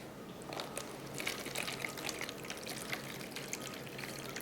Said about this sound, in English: we're gonna put 2 cups of water in each tray